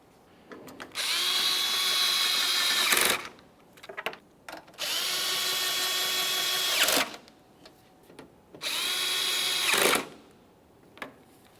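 A power drill runs in three sustained bursts, whirring and straining as it snugs mounting bolts on a 2017-2024 GMC Acadia windshield washer reservoir, with short quiet pauses and small clicks between runs.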